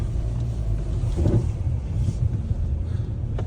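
Car engine revving hard while stuck on ice at a snowy camp, a low continuous rumbling drone with rising strain, close by, no talk over it.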